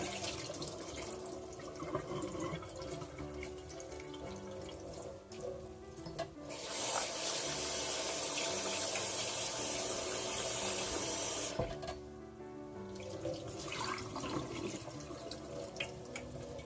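Running water from a sink tap as rice is rinsed to wash away its starch, with a loud steady gush in the middle flanked by quieter splashing, swishing and dripping, with no talk.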